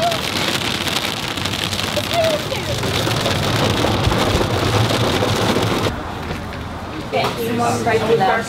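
Heavy rain falls hard and steadily during a storm on a coastal road trip, a dense continuous hiss that thins toward the end as faint voices and other sounds come through.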